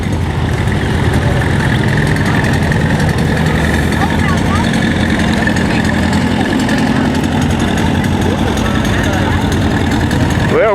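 A big four-wheel-drive tractor runs with a loud, steady, deep rumbling drone that stays constant throughout, with voices talking over it.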